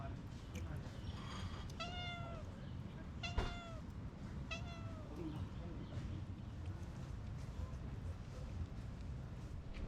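A cat meows several times, short plaintive cries spaced a second or so apart, over a background of voices and ambient outdoor noise at a breakfast spot on Gili Air, Indonesia.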